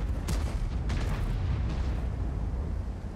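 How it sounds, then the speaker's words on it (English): Heavy, rumbling booms of artillery shells firing and exploding in the World of Tanks video game, a sustained dense roar with a few sharper blasts standing out near the start. "The artillery's gonna shoot at us"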